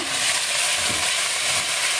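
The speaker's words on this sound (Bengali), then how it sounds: "ফার্স্টে আমি আলুটা দেব" Potatoes fry in a pan, giving a steady, loud, hissing sizzle that runs unbroken and close by, with no voices over it.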